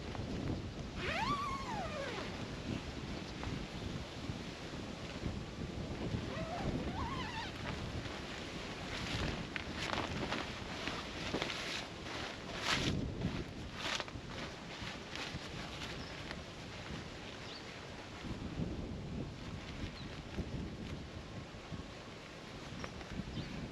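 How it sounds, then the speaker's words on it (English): Gusty wind buffets and roars continuously, with rustling and flapping mixed into a broad, rough outdoor noise. "it's a very windy day today"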